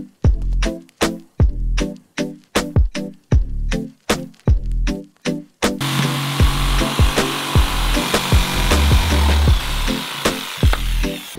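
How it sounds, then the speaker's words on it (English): A jigsaw cuts vinyl plank flooring, first in a run of short, loud, rhythmic sawing strokes, then in a continuous close buzzing cut with harsh rasping texture. "I was able to install most of it using only a jigsaw and a utility knife."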